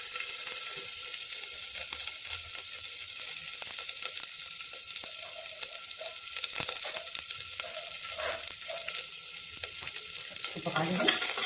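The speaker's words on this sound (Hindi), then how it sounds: "देखिए तेल गर्म हो रहा है, इसमें हम डाल देते हैं जीरा, फिर डालेंगे देखिए लहसुन," Onion, cumin and garlic fry in hot oil for a potato and pea curry, giving a steady close sizzle with occasional stirring clicks throughout.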